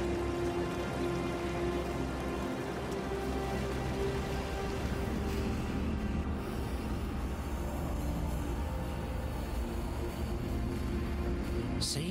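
Rain falls in the video game Path of Exile as a dense, steady patter of drops hitting surfaces, even and continuous from start to finish at a moderate, close level.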